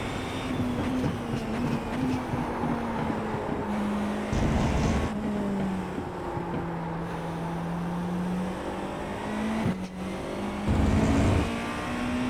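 A hypercar driven hard around a racing track on a slippery surface. A loud, close engine drone rises and falls through repeated gear changes and lifts off the throttle, with brief bursts of harsher roar between them.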